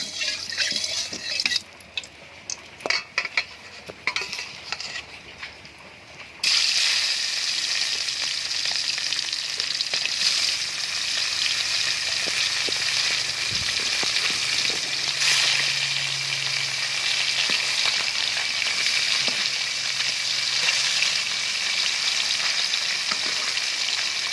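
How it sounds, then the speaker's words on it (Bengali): Amudi fish hit hot oil in a wok one by one, a few bumps and splashes giving way to a loud, sustained close-up sizzle that stays steady throughout. "এখন আমি মাছগুলোকে এক এক করে কড়াইয়ের ভিতরে দিয়ে দেব।"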